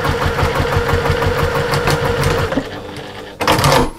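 A sewing machine stitches fabric for an armchair sewing caddy, running steadily and loud for about two and a half seconds, pausing briefly, then starting up again near the end.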